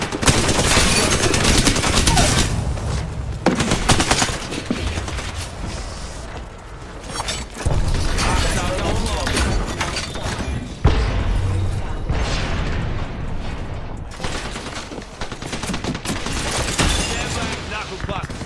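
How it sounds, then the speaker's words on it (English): Fuse's knuckle cluster firing in Apex Legends: a dense, loud barrage of bursting shots and booms running continuously through the scene, with speech over it. "Knuckle cluster firing."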